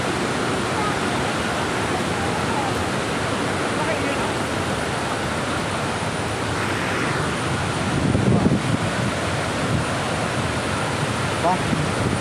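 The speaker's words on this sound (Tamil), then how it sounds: "தண்ணியோட சத்தம் கேட்குதுங்களா?" Steady, dense roar of a waterfall's rushing water, broad and continuous, with a slight surge near the middle.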